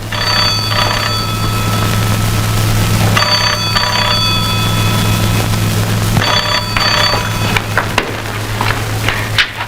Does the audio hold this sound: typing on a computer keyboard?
no